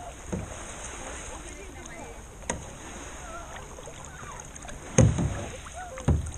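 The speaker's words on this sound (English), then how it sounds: "Keep paddling hard on that side." Paddles dipping and pulling a small boat on Flathead Lake, with soft splashes and knocks at about 0.4, 2.5, 5 and 6.2 seconds over steady wind and water noise.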